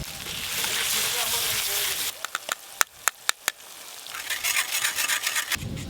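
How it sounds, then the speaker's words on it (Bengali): Mustard paste mixed with water being pushed and rubbed through a sieve in a home kitchen, heard as steady scraping and rasping strokes, then a few sharp taps against the rim, then more brisk rubbing, close and fairly loud. "এবার সর্ষে বাটা আছে, জল দিয়ে গুলে সর্ষে বাটাটা ছেঁকে দেবো।"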